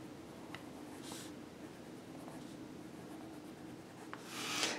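Quiet pencil strokes on paper darkening sketched cartoon eyes, soft scratchy scribbles with a few brief louder rubs, close and alone.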